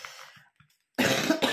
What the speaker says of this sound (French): j'ai une petite bronchite, je tousse